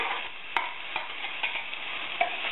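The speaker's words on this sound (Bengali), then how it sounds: "পেঁয়াজটা ঢেলে দিচ্ছি।" Onion fries in hot oil with a dense, constant sizzle, and soft scraping taps from stirring sound now and then, close and alone.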